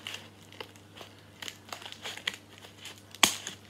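Cardboard being cut and pulled away from a prayer book, heard as soft close crinkling and rustling with small scratchy cuts, ending in one sharp louder tearing crackle; no voices.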